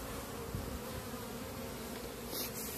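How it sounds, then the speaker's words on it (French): Honeybees swarming back into their hive during a spring inspection, a dense, continuous buzzing hum close by, steady and fairly quiet with no voices. "toutes les abeilles reviennent en masse pour rentrer dans la ruche"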